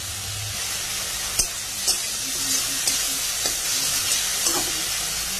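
Shrimp in a spicy curry sizzle loudly in a hot pan, a dense, steady frying hiss broken by several sharp scrapes and clinks of the stirring spoon.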